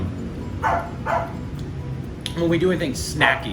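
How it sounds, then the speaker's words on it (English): A dog barks a few times in the background during a vegetarian food tasting, short distant yaps under steady close conversation. "I know you guys can hear the dog in the background."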